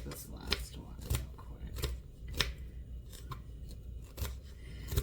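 Celery is cut for soup with a knife, giving several sharp crisp chops at irregular intervals, close and moderately quiet, with a low kitchen background.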